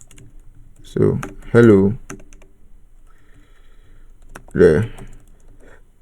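Keystrokes on a computer keyboard clatter faintly through the pauses, quiet and close, while someone talks over them.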